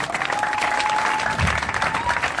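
A church crusade crowd in Ebolowa claps and cheers continuously, a dense, loud wash of applause with a thin whistle running through it.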